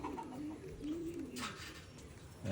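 Several low, drawn-out coos from pigeons come close and steady, one rising phrase after another, with a faint flutter or chirp in the middle and no voices.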